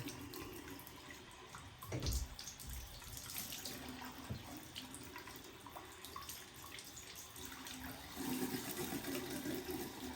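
Warm water runs from a tap while a doll is washed, a steady rushing splash with a brief louder gush near the start and another surge toward the end.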